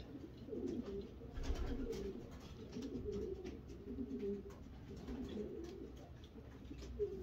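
Pigeons kept in a loft coo softly and repeatedly in low, throaty murmurs, several birds overlapping in a quiet, steady chorus with faint shuffling in the background.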